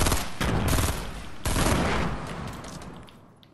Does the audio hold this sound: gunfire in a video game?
yes